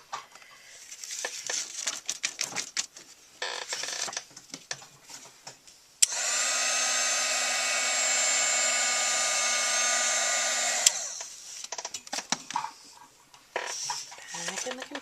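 A heat tool blows hot air to melt embossing powder for scrapbooking glitter work, a steady loud whooshing hum that starts abruptly midway, holds for about five seconds and cuts off, with a person talking before and after.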